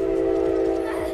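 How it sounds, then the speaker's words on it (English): A train in the video game Paladins sounds a steady, droning horn-like tone that holds throughout, loud and close. "We found the third train that they were talking about."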